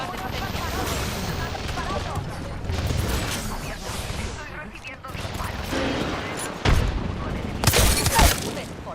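Gunfire in a battle royale video game: dense volleys and sharp cracks with a shattering burst and heavy blasts near the end, layered under a talking player and in-game voice lines.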